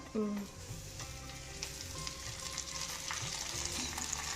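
Washed and dried curry leaves fry in a little oil, a soft, continuous crackling sizzle heard close up, with faint stirring knocks now and then and no talking.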